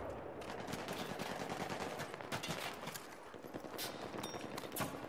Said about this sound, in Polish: Widzę, że oni strzelają